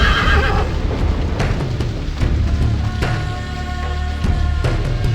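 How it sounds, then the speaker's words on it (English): Horses whinny and neigh in the PSP video game 300: March to Glory, loud and repeated over hoof clatter and a dense game soundscape with thuds and rumbling. "Hey, did you hear something? It's just the horses."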